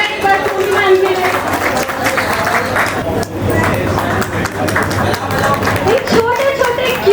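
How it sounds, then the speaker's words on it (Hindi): An audience at a creator meetup event claps continuously in a dense, loud wash, with a voice speaking over the applause. "तालियां हो जाए एक बार सोनी मैम के लिए।"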